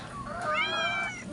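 A cat meows at close range while being fed by the sea, one long drawn-out meow that rises and falls, loud and clear over faint background noise.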